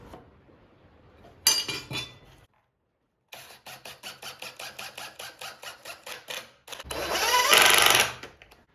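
A drill drives pocket hole screws into a clamped walnut frame, with a short burst, a pause, then a run of rapid rhythmic clicking pulses ending in a loud sustained whirring spin.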